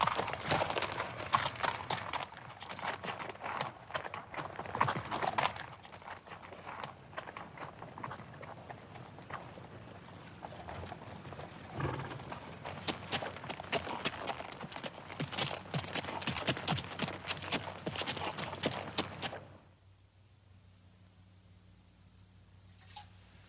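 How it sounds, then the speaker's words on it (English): Horses walk along in a classic Western scene, their hooves clip-clopping in a steady irregular patter for about twenty seconds before stopping, leaving a quiet low hum. "Let's get down off these horses and talk some."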